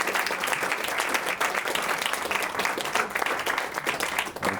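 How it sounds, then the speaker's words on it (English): Audience applause fills a lecture hall at a history class event, steady dense clapping from a crowd throughout, loud and continuous with no break. "another round of applause"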